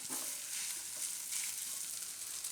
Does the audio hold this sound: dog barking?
no